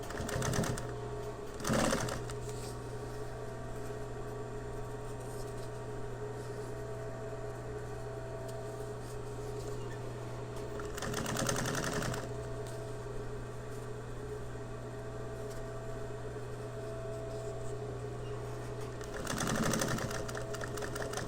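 A sewing machine stitches a PALS elastic panel filler at a slow, steady pace, humming continuously at low volume. Brief rustles of fabric handling break in now and then.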